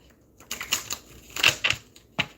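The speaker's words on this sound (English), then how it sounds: "So I'm going to shuffle these cards." A deck of tarot cards is shuffled, making a few separate crisp riffling bursts and taps with short pauses between them, close and fairly loud.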